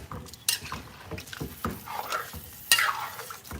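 Spoon scraping and clanking around a pot of brown stew chicken, several distinct irregular stirs with a soft sizzle underneath, close and fairly loud, no talking.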